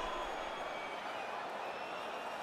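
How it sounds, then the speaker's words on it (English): A UFC 5 video game crowd cheers after a round of a Mike Tyson versus Jon Jones bout. The arena roar stays steady, dense and fairly faint the whole time, with no single standout shout. "the crowd voicing its appreciation after that round"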